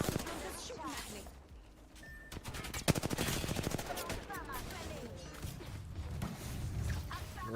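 Gunfire in Apex Legends, bursts of rapid automatic shots and single cracks mixed with game effects, loud and close, with people talking over it.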